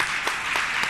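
An audience at a spiritual discourse applauds, a dense wash of clapping that swells in brief pulses throughout the short moment.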